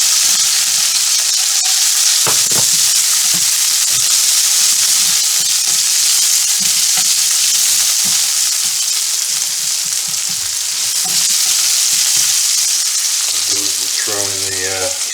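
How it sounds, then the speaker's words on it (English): Onions frying in a pan with a loud, constant sizzle and hiss, occasional stirring knocks and scrapes, and a brief voice near the end. "going to just fry this stuff off. Get the onions going first."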